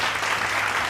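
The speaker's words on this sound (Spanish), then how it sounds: "vamos a recibir a Mari Carmen con un fuerte aplauso" Applause from an audience at a Dance Day event welcoming a guest onto the stage, a dense, steady wash of clapping filling the room without pause.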